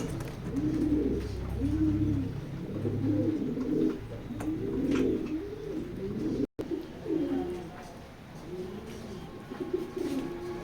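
Racing pigeons coo in a steady, repeating rhythm of low, rounded, throaty calls, close by, over a soft background hum and a short dropout midway.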